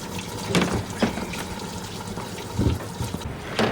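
Coolant gushing out of a Chevrolet Silverado 1500 as the water pump comes off, a steady close splashing pour with a few louder spatters, no talking.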